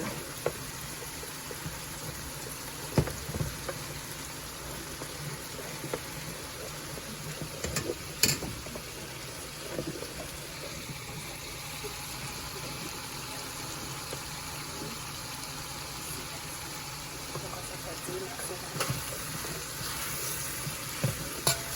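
Beans frying and being stirred in a pan for Haitian rice, a steady close sizzle with scattered scraping stir clicks throughout, no talking.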